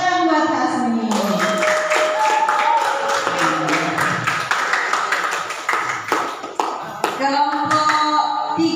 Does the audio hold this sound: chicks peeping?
no